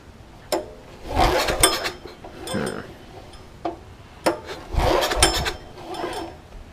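Pull cord yanked on a Yamaha 4000 DVE generator, choke on: two separate bursts of rasping cord pulls, each a quick ratcheting whir lasting about a second, close and fairly loud with quiet gaps between.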